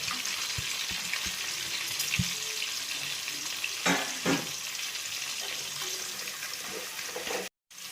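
Steady oily sizzle of green chilies frying in a pan for Kerala-style fish molee, a continuous hiss with occasional stirring scrapes and clinks, cut briefly near the end.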